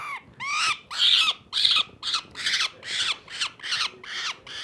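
A falcon chick gives repeated harsh, rasping alarm calls while being handled during banding, about ten loud, close squawks in a steady rhythm with short gaps between them.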